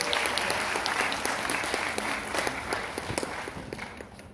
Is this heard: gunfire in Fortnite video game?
no